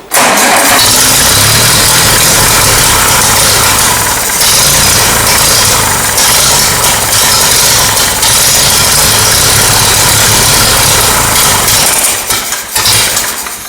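Ferguson TEA tractor engine with the timing out and barely any petrol, cranking and catching, then running loudly with a rough, vibrating drone before faltering near the end; no speech.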